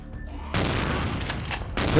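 Shotgun fire in the vampire role-playing game Vampire: Bloodlines: two booming blasts, one at about half a second and another near the end, each a loud broadband burst that leaves a sustained rumbling tail.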